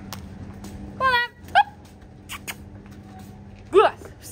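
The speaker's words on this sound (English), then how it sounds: "Are you the new cow dog?" A farm cow dog gives a few short yips and whimpering barks close by, spaced out over a low engine-like hum, with people talking around it.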